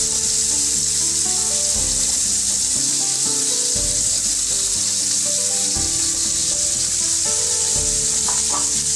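Garlic frying in hot oil in a pan for mutton kosha, a loud continuous sizzle up close with occasional stirring knocks, and no voices.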